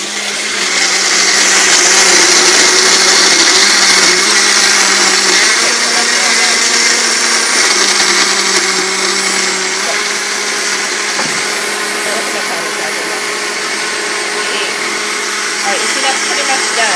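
Magic Bullet blender whirring loudly and continuously while blending a banana smoothie, with a steady high-pitched motor whine that eases slightly near the end.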